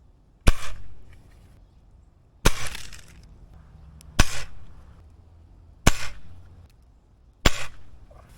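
A pellet gun fires gold flat pellets at a cell phone at point blank range, five sharp cracking shots spaced about one and a half seconds apart, each followed by a brief rattling decay in a quiet room.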